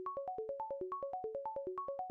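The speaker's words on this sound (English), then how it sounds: "it started with a sine wave" A synth sine-wave tone with the pitch envelope switched off plays a quick arpeggiated pattern of clean, pure notes, each short and evenly spaced, stepping up and down in a steady repeating rhythm, with nothing else underneath.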